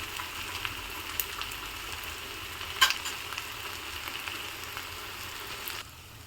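Ivy gourd (tindora) slices fry lightly in a pan, giving a soft, steady sizzle with one brief clink of a utensil midway, fairly quiet and with no speech.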